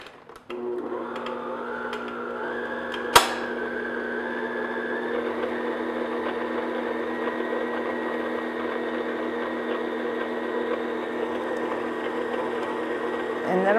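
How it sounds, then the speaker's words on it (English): An electric stand or hand mixer runs on low speed, blending flour into white cupcake batter with a steady, even motor whir and one sharp knock partway through. It hums close and continuous for the whole stretch, with no talking. "have your mixer on low speed because we don't want that flour coming up in our face"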